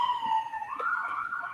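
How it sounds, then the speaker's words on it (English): Emergency vehicle sirens wail outside in Baltimore, a continuous rising and falling tone at moderate distance with faint background noise and no talk. "there's always sirens going"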